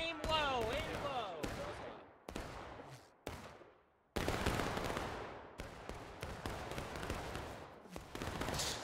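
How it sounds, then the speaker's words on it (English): Gunfight in the Civil War shooter War of Rights, with independent musket fire from a line: repeated sharp broadband shots cracking at irregular intervals, some overlapping in ragged volleys, loud and close, with brief lulls and a voice heard faintly early on. "it looks like a straight up gunfight here"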